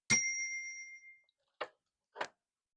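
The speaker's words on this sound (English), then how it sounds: "Here comes the bell." A single bell rings at a spiritual prayer session, struck once loudly up close with a clear tone that rings out for about a second before fading, followed by two short soft taps in otherwise quiet surroundings.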